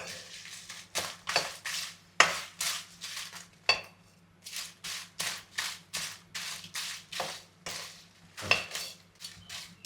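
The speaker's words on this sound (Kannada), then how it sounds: "ಬಾಣಲೆಗೆ ನಾವು ಮೆಣಸು ಹಾಕಿ ಹುರ್ಕೊಳ್ಳುವ ಡ್ರೈ ರೋಸ್ಟ್ ಮಾಡಲಿಕ್ಕೆ" Chillies, urad and chana dal and mustard seeds dry roasted in a pan for puliyogare gojju, heard as a close series of rhythmic scraping clanks of a spatula against the metal, repeating roughly every half second with brief pauses.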